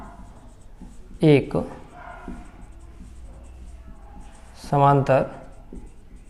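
A pen writes a handwritten Class 10 coordinate geometry solution proving a quadrilateral is a parallelogram, with faint scratching on paper between two short bursts of a teacher's spoken Hindi.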